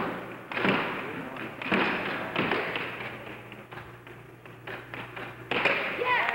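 Plastic air hockey puck cracking off mallets in a classic air hockey match, a series of sharp hard thuds and taps at irregular intervals, heard under a commentator talking over steady background chatter.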